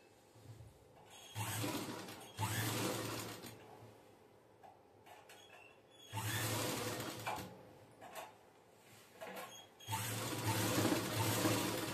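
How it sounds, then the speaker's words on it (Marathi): A sewing machine stitches a chain onto a cushion cover in three whirring runs of rapid mechanical clatter, close and moderately loud, separated by quiet pauses. "याच्यावरती आता सरळ एक शिलाई टाकून घेणार"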